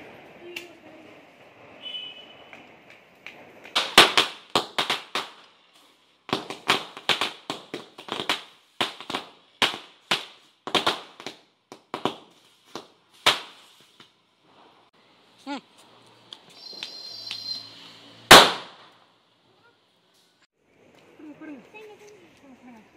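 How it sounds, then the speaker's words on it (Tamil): Firecrackers go off during Diwali celebrations as a run of sharp, loud bangs and pops, some single and some in quick bursts, with one big blast near the end and voices in the background between them. "நான் போய் இப்போ வெடி வைக்க போகிறேன்"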